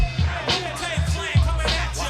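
Original 1968 soul recording, full band with repeated low punchy hits, sustained strings or organ and bright high accents, steady and moderately loud with no talking.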